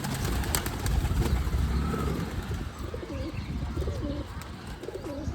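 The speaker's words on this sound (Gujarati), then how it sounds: "આ આપણા કબૂતર છે." Pigeons at a village home coo in low, repeated rolling calls close by, with some chirps and brief wing flutters over a steady outdoor background.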